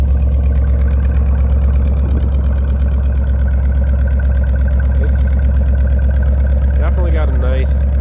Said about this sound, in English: the car sounds nice. Definitely a nice muscle car sound.